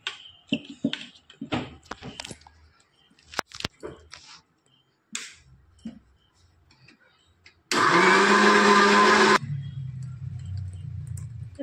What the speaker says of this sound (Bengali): তো দেখো এই যে মিক্সারে একটু মিক্স করে নেবে